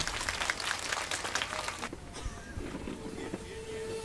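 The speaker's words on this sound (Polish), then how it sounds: "Wielkie brawa!" Audience applause at an outdoor worship concert in Łapanów, greeting the premiere of a newly written fifth verse; a short burst of clapping that fades out after about two seconds into quiet crowd murmur.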